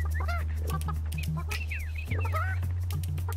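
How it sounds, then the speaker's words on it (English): Chickens in the video game Burly Men at Sea make a busy run of clucks and gobbling calls, several short bird calls rising and falling over a steady low game hum. "I'm done messing with the chickens"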